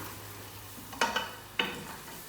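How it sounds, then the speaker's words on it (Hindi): A spoon stirs masala being roasted in a pan for a goat trotters curry, making two soft scraping strokes over a faint, steady sizzle. "लगभग 10 मिनट मैं इसकी भुनाई करूंगी।"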